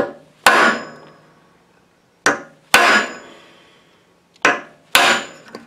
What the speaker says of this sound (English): So I'm going to drive on that and see if it'll come apart.